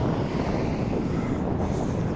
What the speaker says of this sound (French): Oh, le vent là, ça t'épuise ce vent là